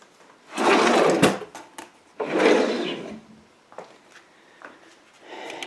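A kitchen drawer full of random odds and ends slides open and shut twice, each a loud rolling rumble about a second long, followed by small clinks and rattles of items inside at close range.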